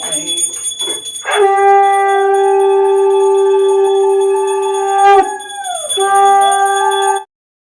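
A conch shell is blown during a Bengali family puja, a loud sustained tone held for about four seconds that dips and then swells again before cutting off, with brief voices at the start.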